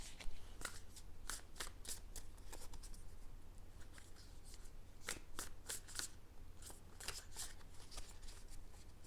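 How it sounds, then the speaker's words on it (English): Tarot cards are shuffled in quick riffling bursts, sharp papery flutters repeating close and soft against a low hum, with no one speaking. "I'm going to pull a couple more cards"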